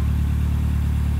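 A Ford Escort RS Turbo engine, misfire fixed, idles with a steady, deep, lumpy rumble and a regular pulsing beat, close and loud, with no other sounds.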